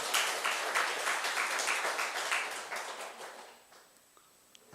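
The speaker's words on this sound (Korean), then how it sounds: "박수 한번 보내드릴까요?" A church congregation at a Sunday service breaks into a short burst of applause, dense and fairly distant, which dies away after about three seconds into quiet room tone.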